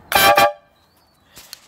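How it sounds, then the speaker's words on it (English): A loud, blaring two-part blast from a three-trumpet air horn on a bike sounds up close, followed by a brief silence and a fainter, shorter toot. "Three trumpet air horn."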